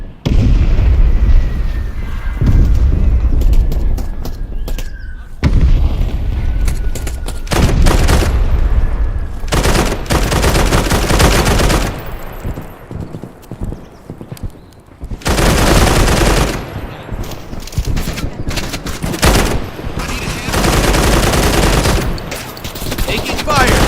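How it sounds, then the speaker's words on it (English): Loud rapid gunfire and explosions in a video game, arriving in repeated heavy bursts separated by brief quieter gaps, with faint voices underneath at times. "Taking fire."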